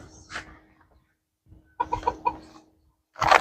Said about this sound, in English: so I can go give the chickens out there?